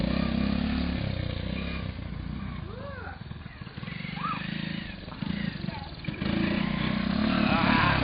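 A Honda Big Red ATV three-wheeler engine roars loud and close during a wheelie, its revs dipping and surging, with voices talking over the throttle.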